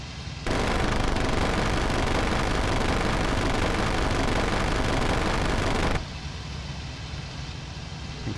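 Aircraft machine guns firing in the flight combat game IL-2 Cliffs of Dover, a dense, sustained burst of rapid gunfire over engine roar lasting several seconds before cutting off abruptly, loud and continuous.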